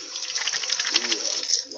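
Tap water runs into a sink as paint is washed off hands, making a brief, close, steady splashing rush with slight fluctuations and a voice briefly audible.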